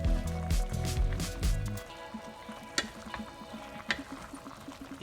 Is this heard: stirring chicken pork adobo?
yes